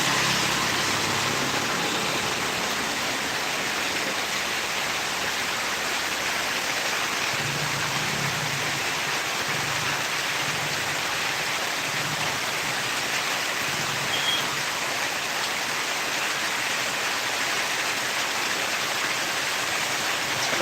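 Torrential rain roars down in a continuous, dense wash of noise, loud and unbroken for the whole stretch, with a few low rumbling pulses underneath and no voices.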